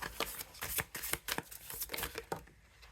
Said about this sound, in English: it's a little bit easier to shuffle when the faces are out